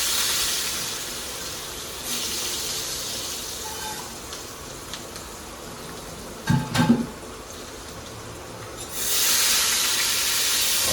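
Fenugreek seeds, chana dal, urad dal and asafoetida dropped into hot oil for a tempering, giving a steady loud sizzle and hiss that swells near the end, with a short clatter partway through.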